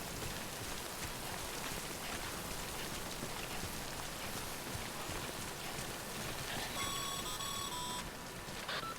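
Rain in the video game Death Stranding falls as a constant, even hiss of drops on surfaces, moderately loud, with a brief electronic chime tone near the end and no talking.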